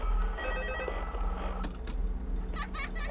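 An old telephone rings in the game FNAF2, repeated bell-like trills over a steady low hum and background noise, fairly loud and close.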